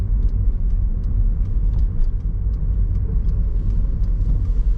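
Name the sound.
car driving and turning into campground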